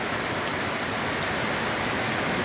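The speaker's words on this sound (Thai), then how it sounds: "ดูสิคะฝนตกแรงมากเลยนะคะ" Heavy rain pours down steadily in a dense, continuous roar with no break, loud and close.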